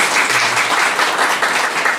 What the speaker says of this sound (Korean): 우리 박수 한번 더 해주시고요